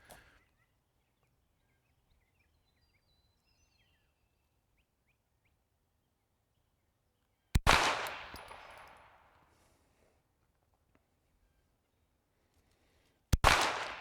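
Two sharp handgun shots at a shooting range target, the first fired double action, spaced several seconds apart, each a loud crack with a fading echo and quiet between.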